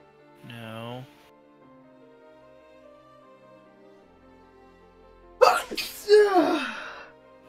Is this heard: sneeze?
yes